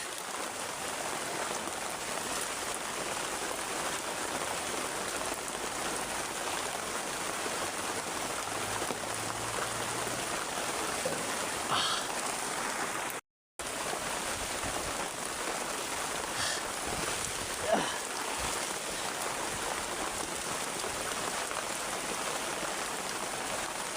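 Very heavy rain pours down continuously, a loud, dense, steady hiss of drops on surfaces with no voices, briefly cut off by a split-second dropout partway through.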